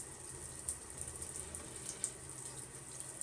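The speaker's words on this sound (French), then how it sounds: "Bref, à la douche." Shower water runs steadily in a bathroom, a soft continuous hiss with occasional faint clinks, quiet and unbroken with no voices.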